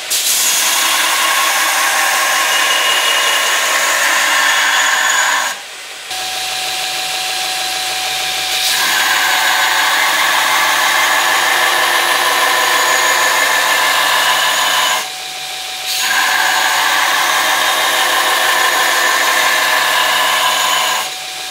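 A knife-making belt grinder runs with an aggressive abrasive belt, a loud steady roaring whine that dips briefly twice as the load changes, with no talking.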